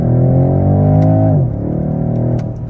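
A 2023 BMW X6 M50i accelerates hard in first gear, its engine note climbing loudly and steadily before dropping sharply at a gear change, then settling into a lower, continuing drone with no one talking.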